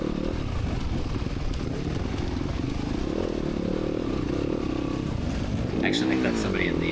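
A 600 class race motorcycle on a racetrack, its engine droning continuously and loudly, with a voice talking over it and a brief shift in pitch near the end.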